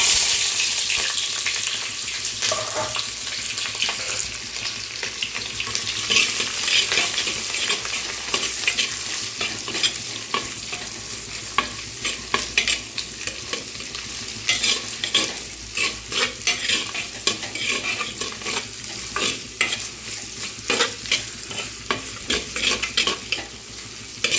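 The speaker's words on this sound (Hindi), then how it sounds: "अब इसके अंदर डालेंगे हम प्याज।" Chopped onion fries and sizzles in a pot of hot oil for rustic handi chicken, with repeated scraping stirs and clinks of a spoon throughout.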